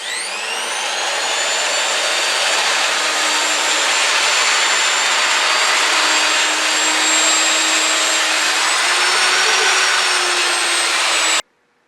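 A boxwood box spins on a wood lathe at slow speed while 180-grit abrasive is held against it, making a steady, loud whirring hiss close by that holds for about eleven seconds, then cuts off abruptly.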